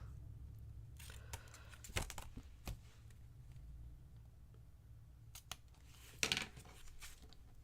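Scissors snip through craft material at close range, a few sharp, brief cuts and rustles spread over the stretch with quiet pauses between, no one talking.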